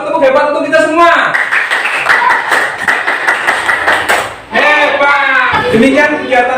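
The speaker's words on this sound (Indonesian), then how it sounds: "beri tepuk hebat untuk kita semua" A group of people claps hands in a rhythmic, patterned clap, loud and close, with voices calling out between, at the end of a classroom lesson.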